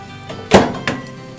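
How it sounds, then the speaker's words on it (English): A microwave oven door shuts with a single solid thunk, followed moments later by a lighter second knock, close by in a quiet kitchen during stir-fry cooking. "We're going to pop this back in our microwave for another 30 seconds"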